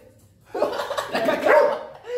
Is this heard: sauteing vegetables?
no